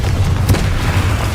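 A Confringo fire spell explosion in the Hogwarts Legacy video game, a short, loud, low boom with a brief burst in the middle, heard alone without talk.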